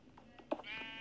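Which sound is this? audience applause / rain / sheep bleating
sheep bleating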